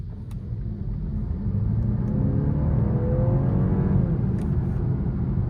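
A 2023 BMW 530e plug-in hybrid accelerating in hybrid mode, a steady, fairly loud engine rumble and whir that builds and rises in pitch as the car gathers speed, with no talking.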